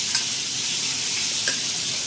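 Oil sizzles steadily in a pan as fish and vegetables fry for a Bengali home meal, a continuous close hiss with a couple of faint clicks and stirs.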